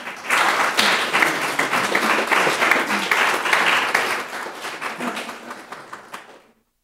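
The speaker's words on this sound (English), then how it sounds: "And both clapping and jazz hands are welcome." An audience at an academic panel discussion applauds steadily for about six seconds, a dense, close wash of many hands clapping that holds level and then fades out.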